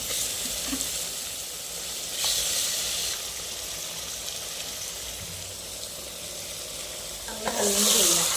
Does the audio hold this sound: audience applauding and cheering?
no